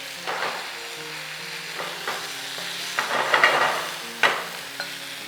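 Chicken sizzles and fries in a small amount of cooking oil while being stirred, a steady close crackle with occasional scraping stir sounds and no talking.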